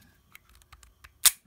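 A Taurus 838C compact pistol's double-action dry-fire trigger pull ends in one sharp, close mechanical click, preceded by faint small ticks of handling in a quiet room.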